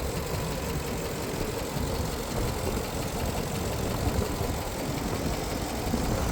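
A 2015 Ram 3500 truck idles with its hood raised, a steady, even engine rumble heard close up, with no one speaking.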